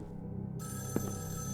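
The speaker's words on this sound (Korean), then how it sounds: "이때 전화벨 소리가 울려왔고 마크는 전화를 받으러 가보는데요." An electronic telephone ring in a horror video game starts abruptly and keeps trilling over a low, steady background hum.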